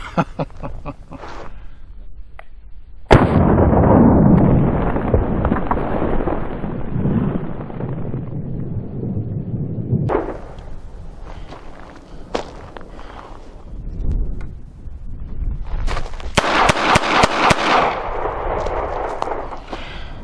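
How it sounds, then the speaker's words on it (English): Shots from a Smith & Wesson M&P Bodyguard .38 Special revolver at a range: a sharp loud report followed by a long roaring rumble, then a few scattered later cracks, with blustery wind noise throughout. "this is fired every single time I have pulled the trigger"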